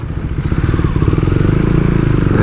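A KTM Duke 390 motorcycle engine runs on a night ride, a close, steady, throbbing drone with a slight rise in revs toward the end, heard alone with no talking.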